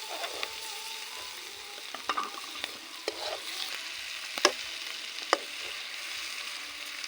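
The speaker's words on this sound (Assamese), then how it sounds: "এতিয়া ইয়াত আগতে বইল কৰি থোৱা আলু ইয়াত এড কৰি দিয়া হ'ল।" Boiled potatoes get stirred into a sizzling frying pan for egg curry, with a soft steady crackle of hot oil broken by intermittent scraping and clacking of the spoon against the pan, close and alone.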